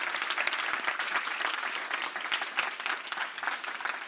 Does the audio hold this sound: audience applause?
yes